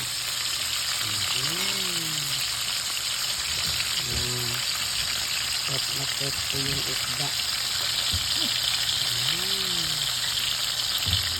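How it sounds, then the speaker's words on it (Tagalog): Steady rain falls outdoors as a constant hiss, with voices talking intermittently over it. "Nagtag-ulan na naman guys"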